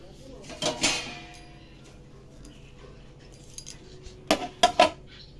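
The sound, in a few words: covering a pot with a lid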